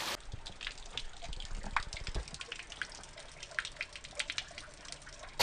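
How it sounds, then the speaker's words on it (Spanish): Water spilling out of a mountain spring near Benifato in Alicante, a continuous trickling and splashing with crisp droplet clicks, close by and fairly quiet. "Sale exactamente la misma cantidad de agua"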